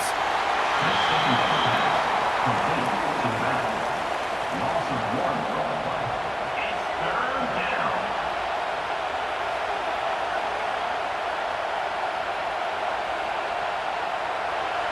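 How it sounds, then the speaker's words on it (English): A stadium crowd at a college football game between Ohio State and Georgia roars steadily on third down, a dense, sustained wash of distant noise beneath a play-by-play voice. "This dog crowd is off the leash, and they are coming after them, bringing noise on 3rd down."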